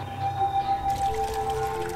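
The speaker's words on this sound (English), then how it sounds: "Whoa, geez, there goes water." Water starts pouring from a turned shower valve in the game Amnesia: White Night, a steady rushing stream that begins partway through and continues over a low ambient hum.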